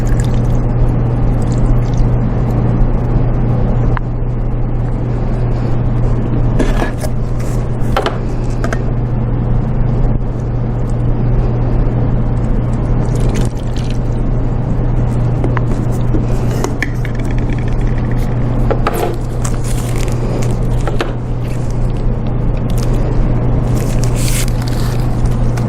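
Wastewater sample poured into a BOD bottle at a lab bench, a close, continuous gurgling pour with squishy, splashy texture and small scrapes, running steadily under a low constant hum for the whole length.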